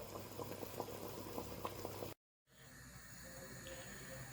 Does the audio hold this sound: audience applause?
no